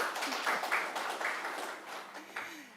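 Audience applause at a judo seminar for referees and coaches, a dense spread of clapping that holds steady and slowly fades, with a few faint voices under it.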